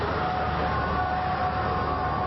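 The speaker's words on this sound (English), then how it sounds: "Sirens over Baghdad overnight as rockets were fired at the Green Zone" Air raid sirens sound over Baghdad during an overnight rocket attack on the Green Zone, a steady, continuous wail at a distance, filling the whole moment without any voices.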